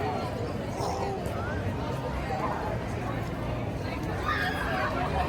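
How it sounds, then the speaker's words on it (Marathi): Busy crowd at the entrance of Six Flags Magic Mountain in Los Angeles on a weekday: continuous murmur of many voices and footsteps, fairly close, with indistinct chatter throughout. "सिक्स फ्लॅग्स माउंटन्समध्ये खूप गर्दी आहे"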